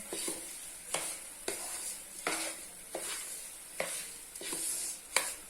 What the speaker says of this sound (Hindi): अब हम इसे तकरीबन 2 से 3 मिनट के लिए अच्छे से भून लेंगे